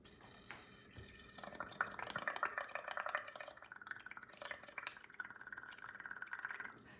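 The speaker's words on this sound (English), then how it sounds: "Now you can see it's kind of splashing on my hand." Food coloring dripping and splashing into water in a kitchen sink, a faint close patter of small drips and splashes running continuously.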